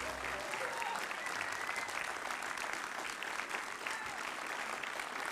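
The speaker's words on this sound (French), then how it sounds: "vous pouvez continuer à les applaudir" An audience applauds at an award ceremony for a school of new images, a dense, steady clapping that fills the room throughout, with faint voices underneath.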